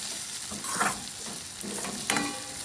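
Curry leaves fry in a hot pan with a continuous sizzle, and a couple of louder scraping bursts come as they are stirred. The sound is close and there is no talking.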